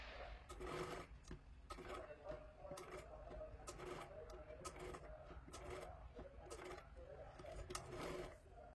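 A sewing machine stitches a blouse sleeve in quick bursts of mechanical rattling, starting and stopping repeatedly at close range, with a person talking over it.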